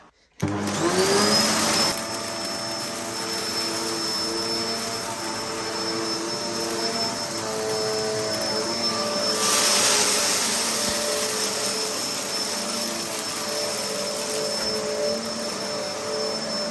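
A Hoover Purepower vacuum cleaner runs steadily up close, a loud continuous whine with a high tonal hum, swelling briefly midway before settling back to its even drone.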